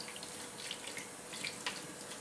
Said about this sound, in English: just lightly wash the meat